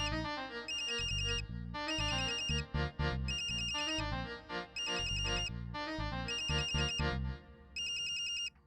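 A phone ringtone in a Pakistani telefilm scene plays a bright, looping electronic melody in repeated bursts, loud and close, with no talk over it.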